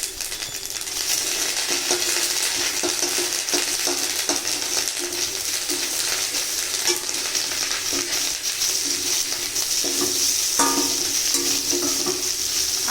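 Dried chilli, bay leaf, radhuni and ginger paste fry in hot oil, a bright continuous sizzle with occasional light spoon clinks, steady and close.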